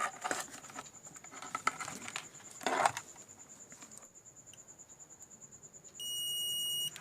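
A multimeter set to continuity mode, probed across an induction cooker's IGBT during repair, gives a thin high-pitched beep that runs faintly under handling clatter, then swells into a loud steady tone for the final second.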